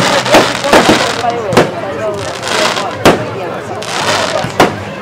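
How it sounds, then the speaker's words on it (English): Bonfire Night fireworks burst nearby in loud sharp bangs and crackling pops at irregular intervals, with a rumbling crowd and people chatting underneath. "How long are the fireworks going on for?"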